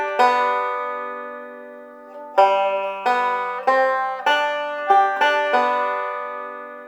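Plucked banjo notes on open strings pick out a phrase of When the Saints Go Marching In, a held opening note followed by a run of bright, ringing rhythmic plucks, close and alone.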